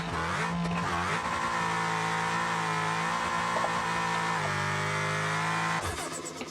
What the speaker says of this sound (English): This engine doesn't like the 500 shot of NOS.